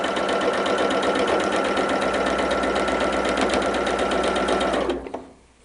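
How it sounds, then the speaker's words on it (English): A sewing machine runs continuously as it stitches quilt pieces for a Tulip Star block, giving a fast, steady mechanical chatter that stays loud and close before winding down and stopping near the end. "we're going to start sewing"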